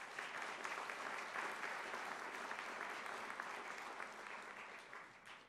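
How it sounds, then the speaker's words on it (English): Graduation audience at a college commencement applauds stage guests, a continuous, fairly distant wall of clapping from a large crowd that stays even throughout and thins slightly near the end, with no voices. "Would you please give them a round of applause?"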